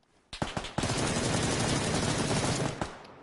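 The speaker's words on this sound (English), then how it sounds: "I shot him" Gunfire in a first-person shooter video game: a few sharp single shots, then a loud, sustained automatic burst lasting about two seconds before cutting off.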